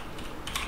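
Brief burst of quick keystrokes on a computer keyboard while a command is entered in a terminal on Ubuntu, fairly close and steady, with no talking.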